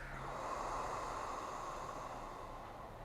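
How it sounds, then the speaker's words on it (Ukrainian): A long, calm exhale during meditation breathing, a steady soft rush of air held for about three seconds, faint and close with no talk. "Робимо спокійний, спокійний вдих. Видих."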